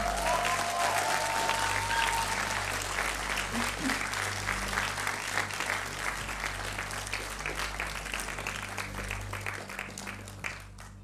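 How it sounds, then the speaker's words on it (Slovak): An audience applauding at the RE:PLY 2022 event, sustained dense clapping over a low steady hum that fades gradually toward the end. "Dajte im ešte jeden potlesk, come on"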